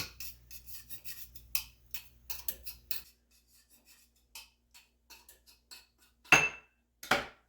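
Mashed garlic scraped off a surface into a bowl, giving short rasping metal scrapes and light clinks in quick irregular strokes, followed by two louder, sharper scrapes near the end, close and otherwise quiet.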